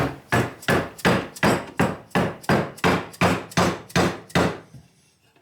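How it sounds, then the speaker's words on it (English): A dead blow hammer strikes eleven times in a steady rhythm, each blow a loud, close, muffled thud with little ring, before it stops and goes quiet. "So just with a dead blow hammer"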